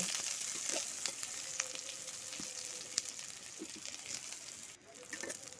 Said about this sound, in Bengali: ওই তেলের মধ্যে দিয়ে দিলাম কুচনো পেঁয়াজ। একটা মিডিয়াম সাইজের পেঁয়াজে কুচিয়ে নিয়েছি, সেটাকে দিয়ে দিলাম। কয়েক মিনিটের মতো ভেজে নেব।